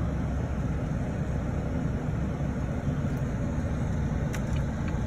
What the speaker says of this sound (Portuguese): tá patinando o caminhão lá, não sobe